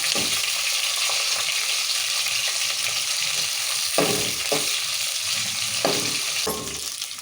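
Green and then red chilies fry in hot oil for lemon pulihora, giving a steady loud sizzle throughout with a few brief clinks and stirring knocks, and no voices.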